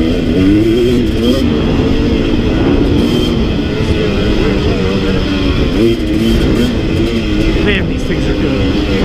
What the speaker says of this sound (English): You definitely find the top of the RPM range faster on this bike.